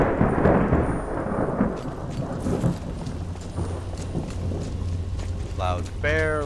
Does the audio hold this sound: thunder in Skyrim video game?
yes